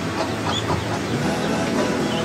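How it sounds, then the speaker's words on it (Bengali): A mother hen keeping a brood of young ducks makes low clucks over a steady outdoor background wash, continuous and fairly loud throughout the short stretch. "আর যে মুরগিটা দেখছেন এটাই হচ্ছে বর্তমানে এদের মা।"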